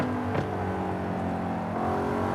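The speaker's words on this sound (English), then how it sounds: "I'll add a little more engine sound for myself" Car engine in the racing game Forza Horizon 5, a steady droning hum with a brief rising whoosh early on, continuous and fairly loud throughout with no talking.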